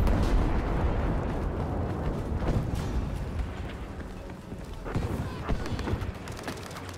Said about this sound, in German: Luftschlag kommt!